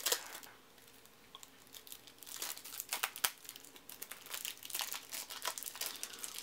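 Cellophane wrapper crinkles and crackles in close, irregular bursts as a Rocket Jockey card game by Mayfair Games is unwrapped, louder rustling clustering midway and continuing to the end.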